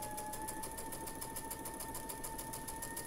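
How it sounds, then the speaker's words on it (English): A sewing machine stitches a star quilt block seam in a rapid, even mechanical patter with a faint steady hum, close and quiet, running without a break. "going to flip our block and sew from this side down"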